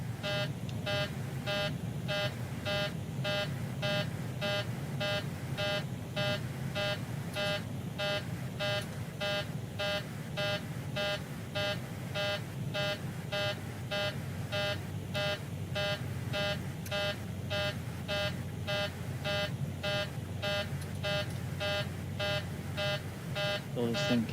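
A cockpit warning beep in the PMDG 737 in MSFS 2020, a rapid, evenly pulsing electronic tone repeating steadily and loudly over a low engine hum, with no talk.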